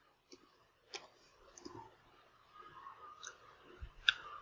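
Soft, sparse keyboard clicks as CMD is typed on a computer keyboard, a few light taps spread over several seconds in a quiet room.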